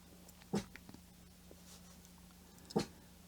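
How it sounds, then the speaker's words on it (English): A dog gives two soft, muffled woofs about two seconds apart, faint and brief against a quiet indoor hum. "She's in between with that little woof, woof."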